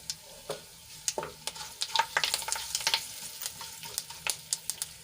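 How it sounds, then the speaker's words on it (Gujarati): White sesame seeds added to a hot oil tempering with curry leaves, cumin and asafoetida pop and crackle close by, with sharp irregular spits over a low steady sizzle. "એક ચમચી જેટલા સફેદ તલ એડ કરીશું"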